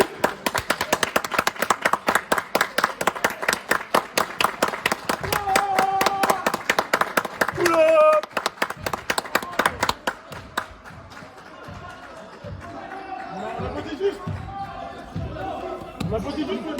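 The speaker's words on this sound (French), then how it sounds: "On applaudit juste." Spectators at a basketball game clapping in a fast, even rhythm for about ten seconds, then scattered claps, ball bounces and shoe noise while people talk nearby.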